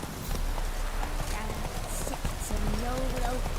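Roach the horse galloping in The Witcher 3, a quick patter of hoofbeats close up under a steady background rush, with a voice speaking briefly near the end.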